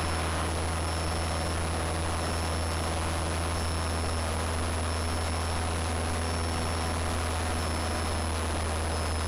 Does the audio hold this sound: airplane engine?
yes